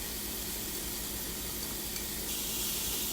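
Leftover rice is stir-fried in a hot pan with egg and vegetables, making a continuous close sizzle and hiss that holds steady and grows slightly brighter toward the end.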